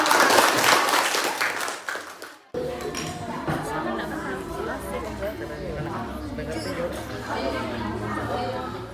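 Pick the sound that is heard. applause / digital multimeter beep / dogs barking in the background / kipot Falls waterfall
applause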